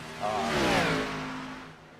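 A race car engine in a racing simulator revs up hard, the pitch sweeping upward then settling into a sustained, slightly falling drone, loud and close with no talking.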